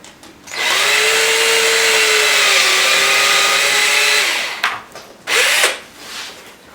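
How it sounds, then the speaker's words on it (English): A power drill bores a pilot hole through the fairing of a Yamaha R1 motorcycle while frame sliders are being fitted. It gives a loud, steady whine for about four seconds, then short bursts as the trigger is tapped, close up. "we're going to drill a pilot hole"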